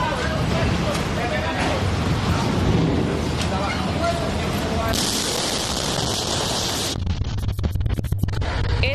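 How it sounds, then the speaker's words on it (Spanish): Explosion at a port warehouse at Contecar in Cartagena, loud and continuous with heavy roaring and crackling under excited shouting voices, then a sharp cutoff and a quieter stretch of crackling near the end. "muestra el momento exacto en el que se origina la fuerte explosión que dio lugar al voraz incendio en una bodega de Contecar"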